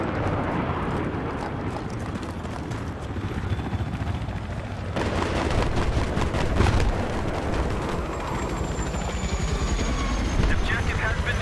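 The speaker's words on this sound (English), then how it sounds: "Hostile helicopter has been spotted in your area." Helicopter rotor thrum in the Battlefield 3 PC video game, a steady throbbing drone under battlefield noise with scattered gunfire and explosions; in-game radio voices talk over it.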